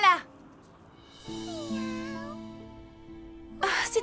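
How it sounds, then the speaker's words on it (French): A kitten's thin, rising-and-falling meow in a French animated cartoon, heard alone against a sustained musical score, with brief voices at the start and end. "Oh, c'était juste un chaton."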